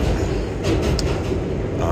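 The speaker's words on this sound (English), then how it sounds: "The car we're riding in right now is an R188." An R188 car on the New York 7 subway train rides along with a steady, loud low rumble and hiss of wheels on track, a few faint clicks over the continuous roar.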